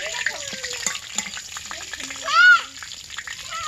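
Bay leaves hit hot oil in a home kitchen pan while ghugni is being made, giving a continuous close sizzle and bubbling as a person talks over it.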